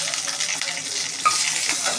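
Mustard seeds, cumin and curry leaves sizzle in hot oil while tempering for moong dal dhokla, giving a close, continuous hiss with light crackling and a single brief clink.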